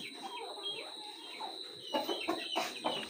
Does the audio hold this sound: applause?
no